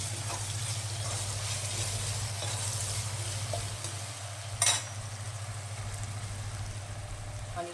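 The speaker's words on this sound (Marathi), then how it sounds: "टोमॅटो घेतलाय मी, त्याच्यात टाकून द्यायचं, छान परतू द्यायचं।" Chopped tomato frying in a pan for Rajasthani dal bati, a steady close sizzle that runs throughout, with a single sharp scrape or clank of stirring partway through.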